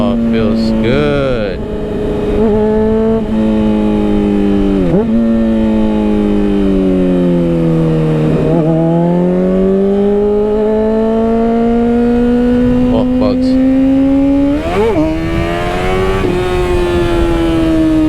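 A motorcycle fitted with a new chain and sprockets drones close and continuously while being ridden, the engine pitch sagging and rising smoothly, with a few sharper blips along the way.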